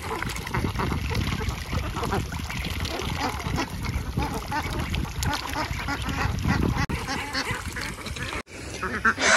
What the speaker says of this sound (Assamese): আৰু এইফালে ডাঙৰ হাঁহখিনি নিজে আহি গ'ল